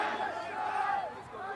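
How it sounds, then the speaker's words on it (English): A crowd of spectators at a school rugby match between Treverton College and Weston Agricultural on a large campus makes a steady, distant murmur of cheering and chatter, with the crowd noise blurred together throughout. "Lovely crowd has gathered."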